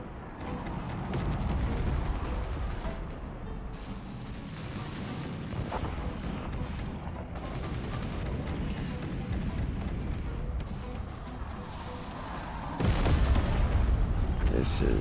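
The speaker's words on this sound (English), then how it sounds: "a whole lot of cannon fire coming in all at once" A cannon barrage in the Forts RTS game: a steady, dense roar of overlapping booms and impacts that keeps going, swelling louder near the end, with a voice talking underneath.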